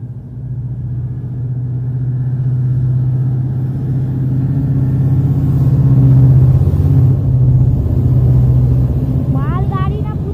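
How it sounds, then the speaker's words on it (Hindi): An empty freight train passing Nanded station in India, a steady loud low rumble and rolling drone that swells midway, with a brief tonal squeal or horn-like warble near the end. "ये रेलगाड़ी, ये तो मालगाड़ी है।"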